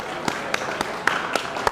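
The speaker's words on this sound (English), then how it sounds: "Let's give one more round of applause to the wonderful" An audience applauding a musical group at an award event, heard as a short burst of about six distinct, fairly close claps spaced evenly rather than a dense ovation.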